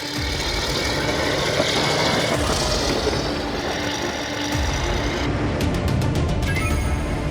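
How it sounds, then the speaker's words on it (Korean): An army armored vehicle from a mechanized infantry division races across a sports field, its engine roaring steadily and close with broadband grinding and rumble, a rattling mechanical clatter joining near the end. "거침없는 기동력을 선보이며 질주하는 장갑차."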